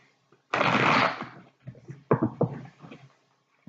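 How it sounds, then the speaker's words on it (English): A deck of tarot cards is shuffled during a reading: one long riffling burst followed by several short, crisp flicks and taps, close and fairly quiet. "One more shuffle."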